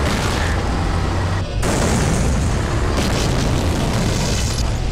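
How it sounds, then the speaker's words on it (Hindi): Artillery shelling in a Kargil war film battle scene: a continuous, loud, dense rumble of heavy blasts and booms filling the whole stretch, with one brief dip partway through before the barrage resumes. "ये अपनी बात के स्वागत में तो बड़ी गोलाबारी कर रहे हैं भाई"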